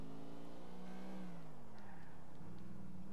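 A stolen car driven in GTA 4 rumbles steadily with its engine revving and shifting pitch, close and continuous, with no talk over it.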